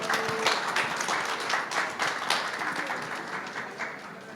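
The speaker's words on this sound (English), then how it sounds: "Can you please give her a nice round of applause, ladies and gentlemen?" Audience applause at a book release during an international book fair, dense continuous clapping from a seated crowd, fairly close, with faint voices mixed in.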